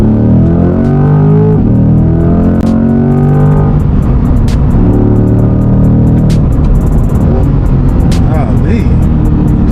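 A 2023 Chevrolet Corvette Stingray C8 accelerates hard from inside the cabin, with a loud engine note that climbs through the gears, drops at a shift and climbs again, while people talk over it.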